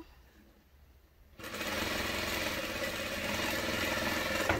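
A sewing machine stitches a seam along a fabric edge, starting after a quiet moment and then running as a loud, continuous, even mechanical whir close by, with no talk.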